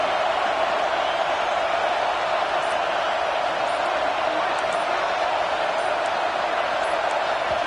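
A football stadium crowd roars in one loud, unbroken wash of noise that stays constant throughout, backing the defense on third down.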